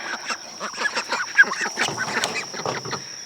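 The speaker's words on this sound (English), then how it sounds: "All right, duckies." A small flock of garden ducks quacking in quick, overlapping bursts at close range, a busy run of nasal calls with one louder squawk midway.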